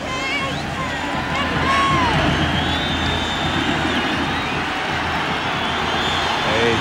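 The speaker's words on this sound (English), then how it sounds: "A huge, vociferous crowd on hand here at the Orange Bowl." A huge crowd at the Orange Bowl during the 1994 Virginia Tech at Miami college football game, a steady, dense roar and hubbub filling the background while a commentator talks over it.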